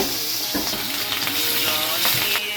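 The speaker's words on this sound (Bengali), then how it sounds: "তেলে পড়তেই ইলিশের ঝাঁঝা শব্দ যেন খিদের ঘন্টা বাজিয়ে দিল" Pieces of hilsa fish rubbed with chilli powder frying in hot oil, a dense, loud, continuous sizzle with crackling spatters and a few scraping touches, close by and uninterrupted.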